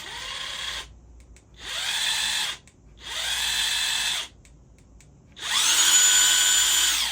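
A DeWALT cordless impact wrench whirs in four separate bursts at first speed, separated by short pauses, loud and close, with the final run higher-pitched and more intense.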